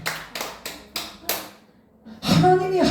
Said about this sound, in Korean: 박수하고